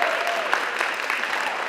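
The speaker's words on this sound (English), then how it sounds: "Round of applause for our soloist" A crowd claps steadily in a brief burst of applause for a soloist at a school concert, moderately close, with no talking over it.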